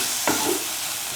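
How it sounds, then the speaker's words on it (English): An egg sizzles steadily in a frying pan while a single scrape of the utensil cuts through early on, close and continuous, with no one speaking. "Thoroughly mix and scramble the egg for around 5 minutes."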